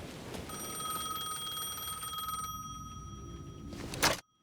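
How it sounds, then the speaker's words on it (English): A payphone rings in the video game Alan Wake 2, a steady bright electronic bell trilling continuously for about four seconds before cutting off abruptly, alone with no talk. "The payphone was ringing again."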